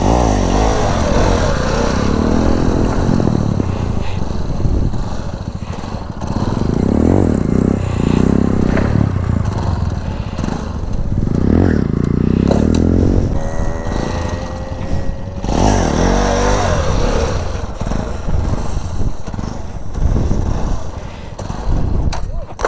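Motorcycle engine revved hard on the throttle while the brake is held for wheelie practice, loud repeated surges and drops of the engine with scraping clatter, under a voice speaking at times.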